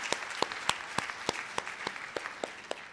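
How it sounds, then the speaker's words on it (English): Applause from an audience at a NOW conference plenary session, light sparse clapping with distinct individual claps popping out at an irregular rhythm. "Let's clap for all of them."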